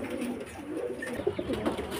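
Several pigeons coo close by, overlapping low throaty warbles rising and falling continuously, with no talking.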